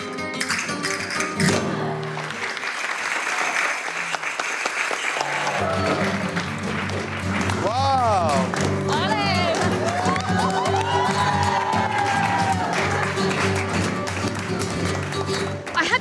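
A flamenco dance performance brings sharp rhythmic clapping and percussive stomping, mixed with crowd applause and cheering, loud and sustained with voices and whoops over it.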